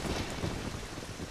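Steady rain falls in a Zelda randomizer video game, a continuous dense hiss of drops that holds at an even level throughout, with no voices.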